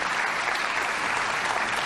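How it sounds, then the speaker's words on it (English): An audience claps steadily for Tommy Thompson, a dense, even wash of applause from a seated crowd, unbroken and moderately loud for the whole stretch. "how about a great round of applause for Tommy Thompson?"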